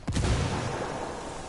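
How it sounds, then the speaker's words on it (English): A frag grenade explodes in a Ghost Recon video game, a single booming blast with a quick onset followed by a rumbling decay, heard alone at moderate volume. "That explosion's kind of suspicious."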